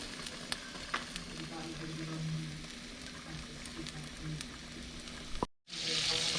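Onions and peppers sizzle in a little more than half a stick of melting butter for a from-scratch three-meat Alfredo, with a steady close frying hiss, scattered stirring clinks, a sudden brief drop near the end, then a louder hiss.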